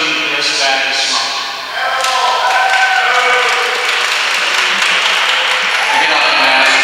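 A crowd at a medical marijuana debate at the University of Tampa cheers and applauds loudly and steadily, with voices mixed into the noise.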